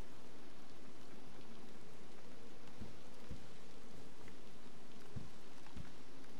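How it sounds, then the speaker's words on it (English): Steady heavy rainfall hisses throughout, with a few louder drops or thumps standing out now and then; no one speaks. "It'll be the rain."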